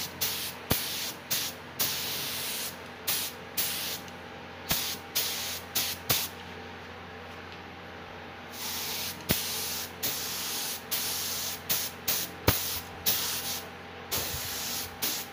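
Bursts of an Aurita F3 spray gun laying black paint onto a motorcycle inner panel, short hissing sprays in a fast repeated rhythm with brief pauses, close and steady, with no talking.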